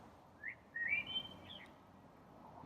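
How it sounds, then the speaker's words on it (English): Birds singing outdoors in sunshine: a few faint, thin whistled calls rise and fall over a quiet background, heard alone and at some distance. "Birds are singing."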